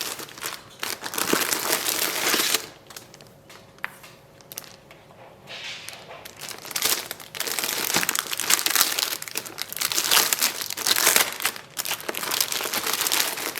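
Crinkling and rustling of a planner's fabric dust bag handled during an Erin Condren A5 planner unboxing, loud close crumpling bursts with short quieter pauses between them, no talking.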